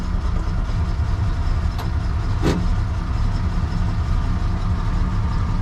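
A Mercedes Unimog 404 engine idles in a steady, loud, unbroken drone, with a couple of brief clicks and a short hiss over the running motor and no voices.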